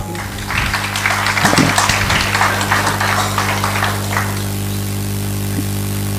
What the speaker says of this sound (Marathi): तरी देखील एवढ्या थंडीमध्ये तुम्ही सगळेजण आलात त्याबद्दल एकदा जोरदार स्वतःसाठी टाळ्या वाजवा